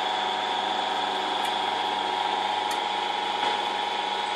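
A metal lathe driven by two motors running steadily, a constant close machine hum and whine with a few faint ticks and no talking.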